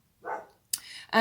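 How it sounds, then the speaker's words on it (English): Dogs barking indoors in the background, a few short barks at close to moderate distance, with no clear talk over them. "Sorry about the dogs barking."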